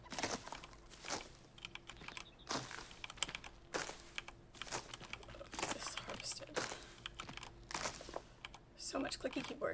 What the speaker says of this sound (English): So much clicky keyboard.